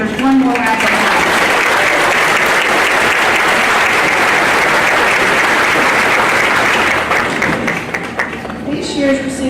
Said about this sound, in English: Let's give these outstanding faculty members one more round of applause